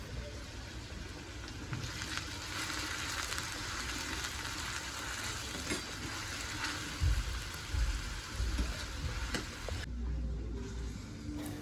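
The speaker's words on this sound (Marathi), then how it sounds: "कढईमध्ये तेल टाकून कांदा चांगला परतून घेत आहे" Onions frying in oil in a kadhai during home cooking of a spicy chicken dish give a steady, close sizzle with occasional soft stirring knocks and no talking. The sizzle thins out near the end.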